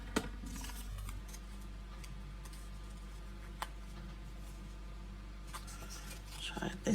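Scissors trim the edge of a paper card for a stamped birthday card, giving soft intermittent snips and ticks under a steady low hum, with one sharper cut near the middle and handling noise at the end.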